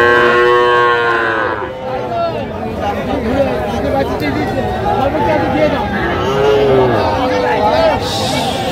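A young Sahiwal bull calf moos loudly several times over the steady hubbub of the crowded Raniganj cattle market, with people chattering all around.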